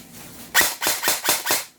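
An HK416 Geissele airsoft rifle fires in single shots, five sharp, close cracks spaced evenly about a third of a second apart after a brief quiet start.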